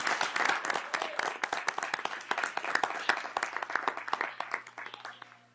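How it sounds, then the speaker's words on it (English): Audience at a board meeting giving a standing round of applause, many sharp individual claps close by, steady and then thinning out over a few seconds. "Would you all please stand one more time and let's give you a round of applause"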